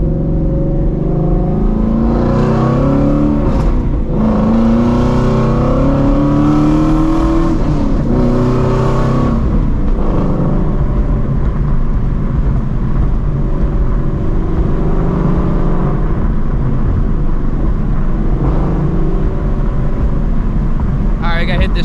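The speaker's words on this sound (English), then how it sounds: "downshifting at 5K at like 50 miles an hour, man. This hoe is screaming." A straight-piped Shelby GT350 screams loudly through a downshift, its exhaust rising and falling in sharp revs before settling into a steady, raspy drone, all heard close from inside the car.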